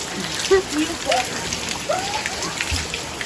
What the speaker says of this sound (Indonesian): Buru ai bare hujan.